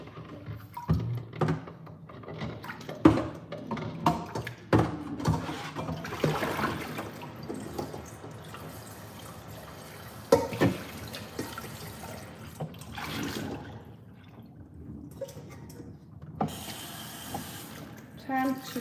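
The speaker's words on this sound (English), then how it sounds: "I'm filling up my pot with water real quick." Tap water runs into a cooking pot being filled to boil potatoes in a home kitchen, a steady splashing, gurgling stream close by, with a person talking intermittently over it.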